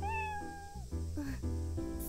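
A cat meows repeatedly inside the video game World End Syndrome, several clear, loud, drawn-out mews in close succession with rising and falling pitch, heard alone without talk.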